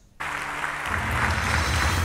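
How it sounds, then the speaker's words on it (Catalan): A standing audience in the Auditori de Barcelona applauds Carme Forcadell at a business gala, with dense, sustained clapping that starts abruptly and swells to fill the hall. "Carme Forcadell ha estat aplaudida amb el públic d'en Peus."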